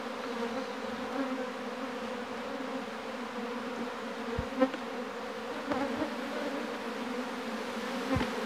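Dense Africanized honey bee buzzing hums continuously at an open hive, a swarm droning close by with a few louder bees passing near, no talking.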